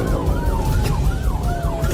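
Police car and ambulance sirens wailing together on a road, two overlapping rising-and-falling tones, loud and close, with no voices.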